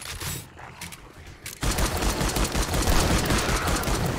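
In the video game 7 Days to Die, a short quiet stretch with a few faint shots gives way to sustained, loud rifle fire that keeps crackling to the end, with no talk.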